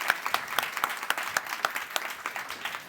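Sparse applause from a breakout-session audience at a sustainability workshop, scattered claps rising and falling at moderate distance for a few seconds.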